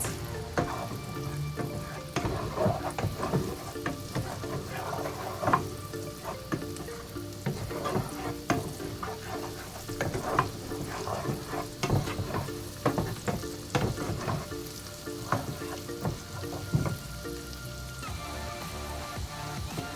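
Chopped seasonings sauté in a pan for an omelette, giving a steady close crackle and sizzle with repeated scraping stirs and small pops throughout, and no talking.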